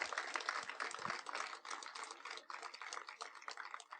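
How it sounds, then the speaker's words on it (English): Audience applause for filmmaker Keith Maitland at a film screening event, a steady dense patter of many hands clapping that continues throughout. "Let's give a round of applause to Keith Maitland for this incredible work."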